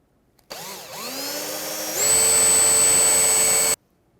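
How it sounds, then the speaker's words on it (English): A power drill whirs up, bites into a plastic fender flare on a 2009-2014 Ford F-150 and rises to a steady, loud high-pitched whine, then stops abruptly. "I'm drilling through the flare, this plastic piece"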